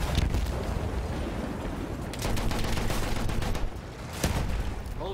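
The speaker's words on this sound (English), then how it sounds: "Shots here from the right side." Battlefield 1 campaign battle gunfire in muddy trench warfare: scattered rifle and machine-gun shots crack over a constant low rumble of distant fire and explosions, moderately loud, with no voices.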